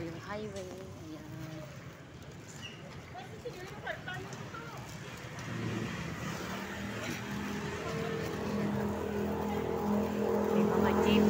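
Busy Manila highway traffic with passing jeeps, a steady wash of engines and road noise that swells louder toward the end, with people talking over it.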